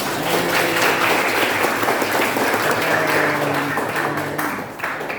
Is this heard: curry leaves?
no